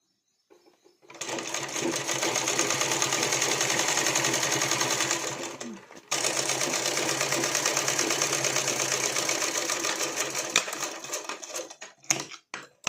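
A sewing machine stitches piping onto a blouse, running in a fast, steady mechanical whir up close for several seconds, pausing briefly, then running again before stopping with a few clicks.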